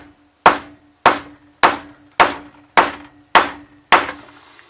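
A hammer taps new pipes onto a classic Mini SPi inlet manifold, giving seven sharp, evenly spaced metallic knocks close up, each ringing briefly before the next.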